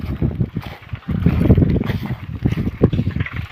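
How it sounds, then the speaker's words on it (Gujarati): A tractor ploughing a farm field next to standing sorghum, heard as a low, uneven engine rumble that swells and fades, partly buffeted by wind on the microphone. "જોઈ શકો ટ્રેક્ટર ચાલે છે."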